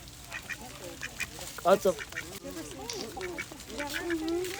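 Ducks quack in short, irregular bursts at Sarasota Jungle Gardens, an outdoor animal park, heard close and mixed with people talking nearby.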